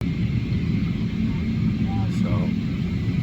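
Steady low rumble inside an American Airlines airliner cabin waiting to take off from Dallas, a constant close drone of engines and air systems with faint brief sounds on top.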